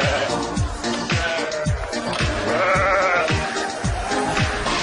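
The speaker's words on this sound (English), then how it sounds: "Look at the baby goat!" Baby goats bleat at a goat farm, several loud, close, wavering cries that overlap and repeat in quick succession through a busy, noisy pen with no clear talk.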